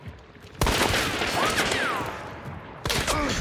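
Dense bursts of gunfire rattle out in an online shooter game, with loud overlapping volleys from several guns, a brief lull, then another burst near the end.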